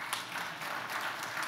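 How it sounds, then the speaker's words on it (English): An audience at a marketing conference panel applauds a speaker coming on stage, a brief, soft and steady patter of many hands heard from a distance. "Please give him a warm round of applause."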